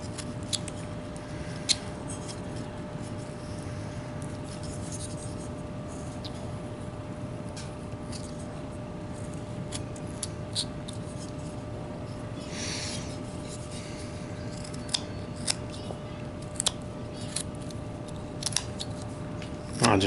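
Knife whittling a wooden hobo burro figure, giving a steady soft scraping and rasping of blade on wood throughout, with a few sharper cutting clicks toward the end and no talking.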